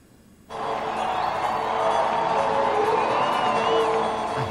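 A large crowd packed into the streets of the Irish border town of Dundalk cheers to welcome US President Bill Clinton, a sudden swell of loud sustained roaring and whoops that holds steady.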